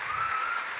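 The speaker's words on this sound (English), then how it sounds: "I think it's huge and it deserves another hand of applause that you did this alone." An audience at a business plan competition final applauds, a dense continuous wash of clapping with a thin whistle riding on top through the brief burst.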